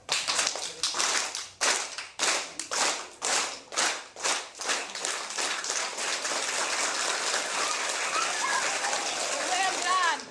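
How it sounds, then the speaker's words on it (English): A group performs a train clap at a sports-for-development event: loud synchronized claps start slow and evenly spaced, then speed up steadily until they blur into a continuous rattle of rapid clapping. "One train clap."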